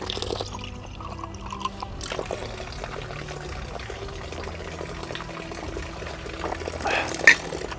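Spring water flows and splashes steadily from a spout at a monastery on Mount Athos, a close, even trickle that keeps going the whole time, with a slightly brighter splash near the end.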